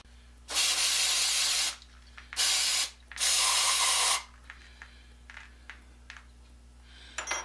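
QD electronic cleaner sprayed from an aerosol can onto an antique oil can spout, three loud hissing bursts of about a second each with short gaps, followed by faint clicks and handling noises.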